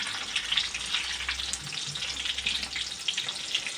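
Mirchi bajji, batter-coated green chili fritters, deep-frying in oil, a steady fine hiss of bubbling with faint crackles, soft and continuous without any voices.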